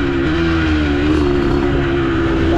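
A Yamaha YZ 125 motorcycle engine, reported to cut out at every gear change, holds a loud, close, steady buzzing drone with slight pitch wavering throughout.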